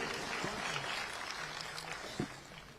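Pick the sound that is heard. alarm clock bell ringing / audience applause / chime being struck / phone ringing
audience applause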